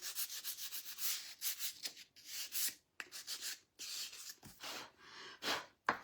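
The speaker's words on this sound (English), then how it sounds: "she just painted that thing and now she's sanding all the paint off" Short rasping strokes of sandpaper on a freshly painted Scrabble tile rack, stripping the paint in quick uneven bursts with brief pauses, close and fairly quiet with no voices.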